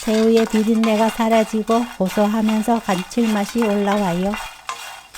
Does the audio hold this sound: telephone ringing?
no